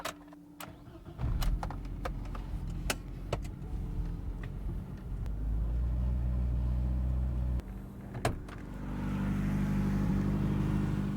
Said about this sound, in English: Let's pull the car out and take a look.